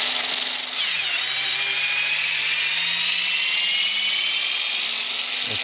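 A power tool loosens the wheel fasteners on a Porsche 992 GT3 Touring, giving a loud, steady whine that runs continuously for several seconds, close by and with no talking.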